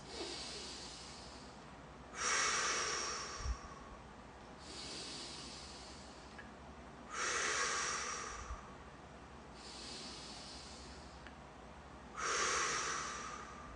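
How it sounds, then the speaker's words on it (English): A person seated during a relaxation exercise breathes in through the nose in three long, soft, airy inhalations spaced a few seconds apart, close and quiet, with no talking. "I'm going to breathe in my nose."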